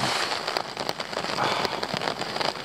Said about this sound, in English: bucketing it down